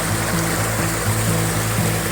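Mersey River water running steadily where Kia Ora Creek joins it, a continuous broadband rush with a low rumbling undertone, fairly close and unbroken, with no voices.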